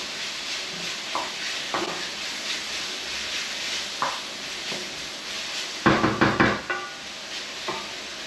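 Pork belly sizzling and caramelising in a pan, a steady crackling sizzle under occasional stirring knocks, with a short run of quick clattering taps near the end, close and moderately loud.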